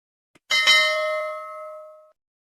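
A single bright notification bell chime, as used for a subscribe prompt, rings out after a faint tick, then its tone fades away over about a second and a half.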